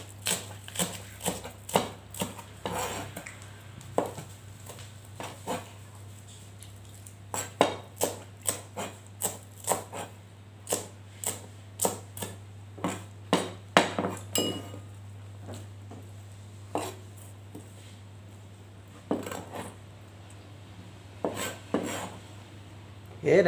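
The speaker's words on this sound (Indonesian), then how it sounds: "potong juga ini seledri dan bawang prenya ya. Kita potong kasar saja." A knife chops celery and leeks on a cutting board in rough, irregular strokes, a long run of sharp close knocks with short pauses, over a steady low hum.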